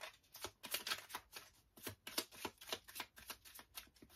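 Oracle cards are shuffled close up in a rapid, steady flutter of papery riffles and slaps that continues without a break for several seconds, with no voice over it.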